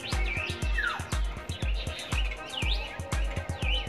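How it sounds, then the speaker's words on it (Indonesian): Birds of many kinds calling inside the Taman Burung TMII aviary, a busy mix of sharp repeated chirps and swooping whistled calls, close and fairly loud, with a rhythmic pulsing beat running beneath the calls. "Sepertinya ada banyak jenis burung nih yang ada di Taman Burung"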